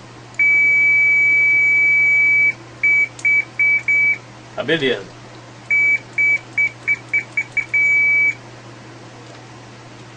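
A multimeter set to continuity mode on a tablet repair bench emits steady beeps: one long tone, then a string of short chirps, a pause, and more rapid short beeps, with a brief spoken word in the middle.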